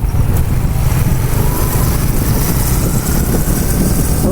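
A Honda CBR motorcycle engine runs steadily, a loud close rumbling idle with a smooth, even low-pitched drone and no talking, continuous for the whole stretch.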